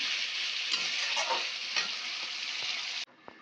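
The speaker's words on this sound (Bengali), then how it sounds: "কষিয়ে দিলাম, নাড়াচাড়া করলাম" Chicken kosha is stir-fried in a pan with a loud, dense, continuous sizzle and occasional scrapes of a spatula, heard close with no voices, before the hiss suddenly drops away near the end, leaving a couple of quiet knocks.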